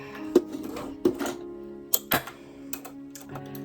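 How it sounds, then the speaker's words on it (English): A sewing machine stitches a quilted wallet in short bursts of rapid mechanical clatter, with clicks and pauses between runs, close and fairly loud. "Nice and tight to the edge, we're going to sew it up."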